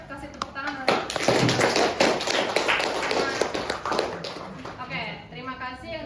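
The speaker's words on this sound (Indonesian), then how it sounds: "yuk kasih tepuk tangan" Applause from a classroom after a student group's presentation, a dense burst of clapping that swells for several seconds and then thins out, with voices talking over it.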